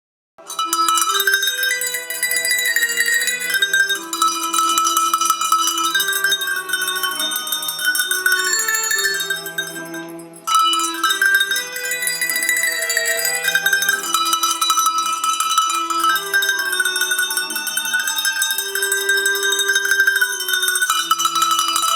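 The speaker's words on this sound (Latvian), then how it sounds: "Ja izdzirdēsiet zvaniņu skaņas" Small bells ring continuously in a bright, melodic jingling pattern, loud and close, with a brief break partway through before the ringing resumes.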